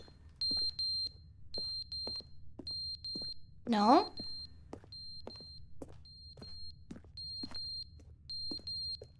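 Repeated alarm beeps from The Stanley Parable video game sound in a steady, evenly spaced rhythm, high-pitched and clear, while a voice talks and briefly shrieks over them.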